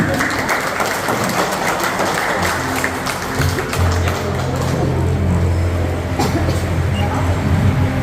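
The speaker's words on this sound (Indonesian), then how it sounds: "berikan tepuk tangan" A crowd at a church wedding ceremony claps together in sustained applause that fills the room from start to finish, steady and loud, with a low rumble underneath.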